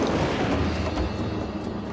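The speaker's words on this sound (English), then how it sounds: "the hammer should have flown in much faster and caused an immediate thunderous impact instead of this delayed kind of silly explosion that we get" A deep, rumbling explosion from a hammer impact in an Age of Mythology cinematic rolls on as a steady, loud roar with no sharp attack, heard alone for about two seconds.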